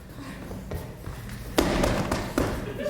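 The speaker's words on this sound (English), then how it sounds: "you bang on that wall, I'll bang on this wall." Performers in a live improv theatre show bang on walls, with a few loud thuds and slams standing out over a busy, rumbling stage background.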